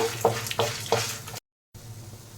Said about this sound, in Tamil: ஸ்டவ்வை வந்து நல்லா சிம்மில் வச்சுட்டு வறுத்தரலாம்